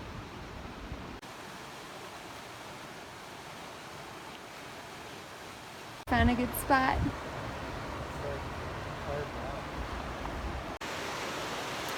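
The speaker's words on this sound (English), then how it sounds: "it's kind of loud right now with the Arkansas River behind me" The Arkansas River rushes steadily behind a runner near Buena Vista, Colorado, a loud broadband roar of flowing water that runs throughout, with a person speaking briefly over it partway through.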